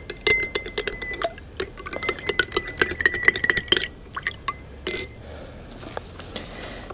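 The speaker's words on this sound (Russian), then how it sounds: "Теперь меняем состав воды. Перемешиваем обычную соль." Salt being stirred into water in a glass with a spoon, giving rapid close metal-on-glass clinks and taps in an irregular run before a short pause and one last sharp clink.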